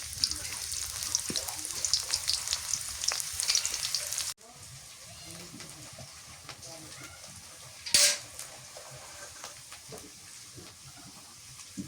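Chopped onions frying in hot mustard oil, a soft crackling sizzle close by with a sharper burst midway, faint and steady under a quiet room.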